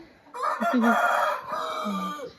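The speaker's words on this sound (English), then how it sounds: "She has beautiful chickens." Backyard chickens in a flock cluck and call in a close, moderately loud burst, with a rooster-like crow mixed among the hens, heard on its own without talk.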